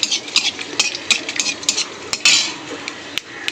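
Whole cardamom pods hit hot oil with a loud, crackling sizzle, cut by repeated sharp clinks and scrapes of a metal spoon against the pan, close and busy throughout, no speech.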